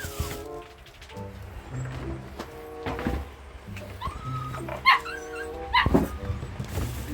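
Dogs Hachiro and Kapsi bark, yip and whimper in short bursts near feeding time, with tonal whines and sharp yelps scattered over steady background noise.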